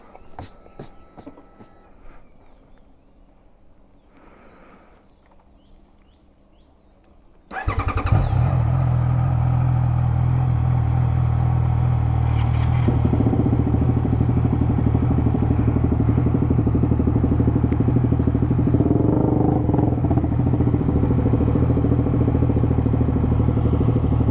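Quiet rustling, then a CFMOTO 675NK motorcycle with a full-system exhaust fires up and settles into a loud, steady, throaty idle with a deep exhaust rumble that continues to the end.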